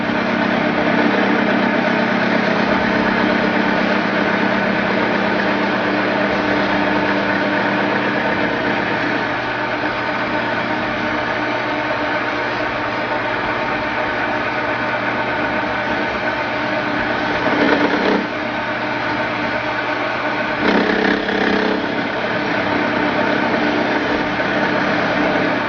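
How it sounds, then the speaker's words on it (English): A lathe fitted with an end mill cuts a keyway, giving a steady machine drone and hum that runs unbroken throughout at an even, fairly loud level, with no voices. "Now mount a end mill in your chuck, and you can feed it in there."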